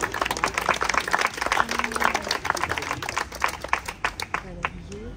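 Applause from a crowd at a gastronomic brotherhood induction ceremony, dense overlapping claps over a murmur of voices, steady throughout and fading slightly at the end.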